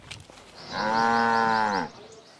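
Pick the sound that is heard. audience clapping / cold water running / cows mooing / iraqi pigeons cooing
cows mooing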